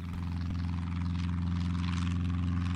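Steady low drone of an aircraft engine in the driving game My Winter Car, a continuous propeller hum with an even tone throughout and a brief sharp knock at the very end.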